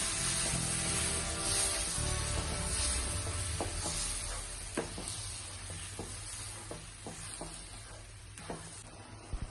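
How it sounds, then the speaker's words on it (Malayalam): A jaggery mixture is stirred in a frying pan, with a steady sizzle and repeated scraping stirs close by. No one speaks. "എന്നിട്ട് ഫ്രൈ പാനിൽ നിന്ന് വിട്ട് വരുന്ന പരുവാകുന്നത് വരെ ഇളക്കി കൊടുക്കണം"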